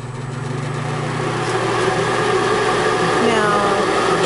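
A plugged-in electric blower fan spins up into a steady, loud, broadband whoosh with a low hum, nearby and continuous.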